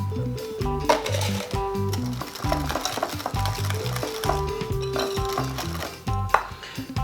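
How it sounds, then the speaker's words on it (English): Eggs being whisked into Nutella banana muffin batter in a bowl, a quick repeated clatter of the whisk against the bowl that keeps a steady rhythm throughout. "And I'll whisk."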